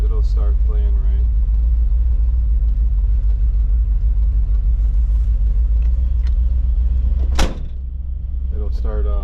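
1987 Chevrolet Silverado with a throttle-body-injected 350 V8 and mild cam idling after a cold start, a loud steady low rumble throughout, with someone talking over it and a brief sharp knock near the end.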